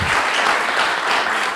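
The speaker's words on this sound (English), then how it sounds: "Let's give him a big round of applause" Audience applause after an illustration art presentation in a library, a short, loud and even burst of clapping from a crowd close by.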